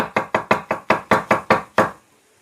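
Knife chopping mushrooms on a cutting board, nine quick sharp knocks in an even rhythm, close and crisp, ending abruptly with no talk.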